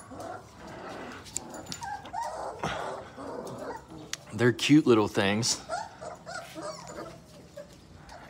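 Irish setter dogs and puppies whimper and yip with a few barks, close by, while a person talks over them.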